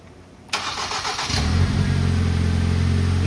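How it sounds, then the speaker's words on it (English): A 2010 Ford Focus engine cranks and fires, its first burst followed by a sustained idle that settles into a steady, loud low hum close by, with no talking. "all we gotta do is just run the car"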